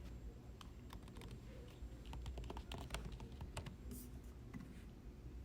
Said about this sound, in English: Let's see if we can type this and get the same answer.